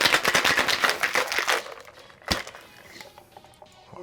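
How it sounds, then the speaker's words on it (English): Ice rattles hard inside a cocktail shaking tin, a fast rhythmic clatter of repeated sharp knocks that stops after a second and a half, followed by a single clank and quieter handling sounds. "We'll take our shaking tin, and what we're going to do is we're going to shake this for a good 10 to 15 seconds."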